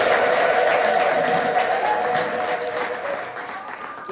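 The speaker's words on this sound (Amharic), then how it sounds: "አጨብጭቡ እስኪ ለጌታ" A church congregation claps for the Lord, a dense wash of applause that starts strong and gradually fades over a few seconds, with a faint murmur of voices underneath.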